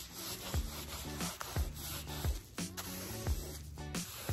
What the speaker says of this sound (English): Let's try to put some cleaner on it and see if that does anything.